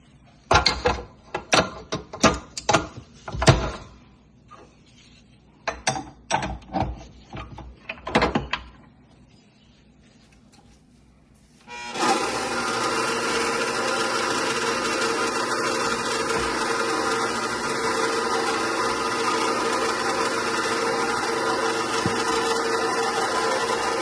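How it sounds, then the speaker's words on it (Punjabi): An electric dough kneading machine mixing gulgule batter starts after a stretch of sporadic clanks and knocks, then settles into a loud, continuous mechanical whir that holds steady to the end. "ਆਪਣੇ ਕੋਲੇ ਮਸ਼ੀਨ ਹੋਣ ਕਰਕੇ ਆਪਾਂ ਮਸ਼ੀਨ 'ਚ ਹੀ ਪਾ ਰਹੇ ਆ ਜੀ"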